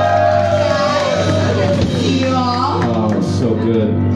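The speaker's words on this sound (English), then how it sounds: "I need you to scream and cheer" Bar crowd at a dueling pianos show in Hell's Kitchen, New York, shouting, whooping and cheering loudly and continuously, a dense wall of voices close by.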